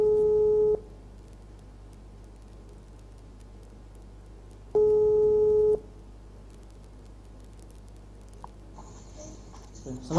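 A telephone ringback tone heard while waiting for a call to be answered during a live online sixth-grade science class, two steady tone bursts about four seconds apart over quiet room noise.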